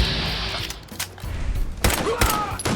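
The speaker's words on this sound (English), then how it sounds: "Started shooting these raiders." Gunfire rings out in Fallout 4 as raiders are shot, a few loud bursts and booms close by over game ambience.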